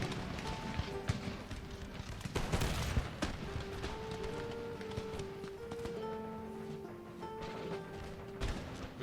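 Crackling musket volleys from line regiments in Empire: Total War during the Battle of Strasbourg, a burst of dense firing early on followed by scattered shots and battle clatter under a background musical tone.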